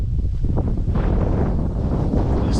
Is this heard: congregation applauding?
no